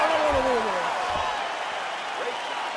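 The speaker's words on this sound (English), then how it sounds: "the crowd voicing its appreciation after that round" A steady, fairly loud crowd roar fills an EA Sports UFC 4 arena after round two of Bruce Lee versus Hong-man Choi, easing off slightly toward the end, with a few rising and falling voice-like calls.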